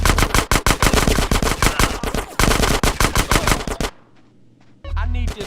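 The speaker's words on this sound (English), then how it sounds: "Get some suppressing fire in there!" Loud close machine gunfire from GTA San Andreas rattles in rapid, evenly spaced bursts for about four seconds, then falls quiet before a short final burst of noise.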